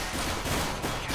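Gunfire in Counter-Strike on de_dust2, heard as a dense, continuous barrage of shots at a steady, loud level with no pauses.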